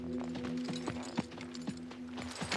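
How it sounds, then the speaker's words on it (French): Hooves clip-clop at a brisk, uneven pace over a steady low hum, fairly close and moderately loud. "C'est son cheval."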